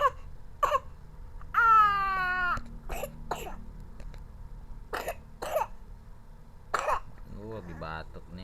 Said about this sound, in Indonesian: Lagi batuk nih.